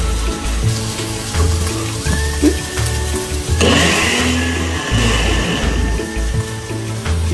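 A blender whirs loudly and steadily, blending tinga de pollo sauce with salt and pepper, its motor pitch rising partway through as the contents churn.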